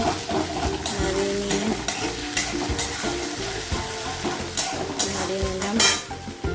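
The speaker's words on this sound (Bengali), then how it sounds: "তারপরে এটাকে আমি একটু নাড়িয়ে নেব" Whole spices such as cinnamon, cloves and cardamom frying in oil while being stirred, a dense crackling sizzle with repeated rhythmic scrapes and clinks against the pan, near and loud.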